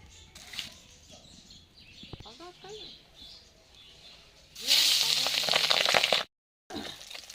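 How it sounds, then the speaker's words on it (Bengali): Fish frying in oil in a wok gives a loud, bright sizzle that bursts in near the end and holds steady for over a second, then cuts out briefly and returns. Quieter kitchen noise and chirpy background sounds come before it. "কড়াই তেল দিয়ে দিয়েছি, এবার মাছগুলো আমি ভেজে নেব।"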